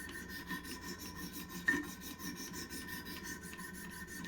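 Steady, even rasping strokes of a knife blade drawn across the stones of a Wicked Edge Pro-Pack III sharpener, close and moderately quiet, with one brief sharper scrape partway through and no talking.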